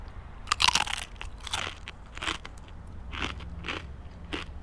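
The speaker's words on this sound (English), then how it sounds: "Those are crunchy, salty, awesome." Loud, close crunching of someone biting and chewing crisp, salty tortilla chips, several sharp crackly bursts in an uneven rhythm, with no talking.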